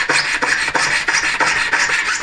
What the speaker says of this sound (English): I'm just going to cut this rounded end off so I'm milling it kind of same-ish,